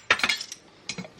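A crockpot lid clinks as it is lifted off a slow cooker holding chuck roast for beef tacos, two or three light metallic-glass taps close by, then a softer clink about a second later.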